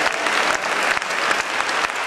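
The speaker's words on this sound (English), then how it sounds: "give them a big hand clap for all the work that they've done" Audience at a tribunal opening ceremony gives steady, dense applause, many hands clapping together at moderate loudness throughout the short stretch with no voices over it.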